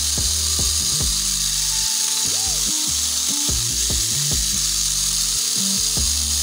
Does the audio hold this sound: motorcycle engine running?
yes